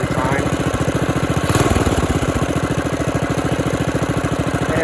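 A Honda GX200 single-cylinder engine on a small minibike idles steadily close by, a fast, even chugging pulse with a brief rise in revs partway through.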